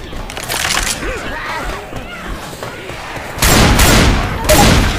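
Gunfire in the Left 4 Dead 2 zombie shooter: after a stretch of shouting players and background noise, a dense burst of loud, close shots erupts, followed by another sharp volley near the end, with voices talking throughout.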